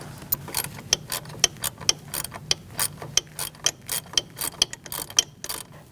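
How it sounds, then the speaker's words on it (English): A 1/4-inch ratchet clicks steadily while tightening thermostat housing bolts on a 2016-2019 Chevrolet Cruze 1.4L engine, with a regular series of sharp close pawl ticks and no talk. "now we're going to switch to our 1/4-inch ratchet just so we can feel it when it gets a little tighter"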